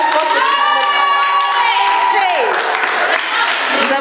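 An audience at a women's meeting cheers and shouts loudly, with sustained whooping voices rising over a busy crowd roar and scattered clapping, all close and steady.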